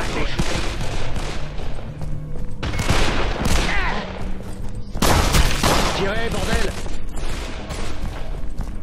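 Heavy gunfire in Call of Juarez: The Cartel, dense automatic bursts and repeated shots with booming impacts, loud and close throughout, with shouted voices over the shooting.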